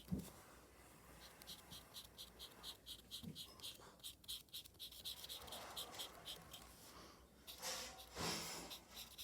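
A pen scratches color onto the fabric of a handmade squishy doll in quick repeated strokes, faint and close, with soft breathing and small handling noises between strokes and no talk.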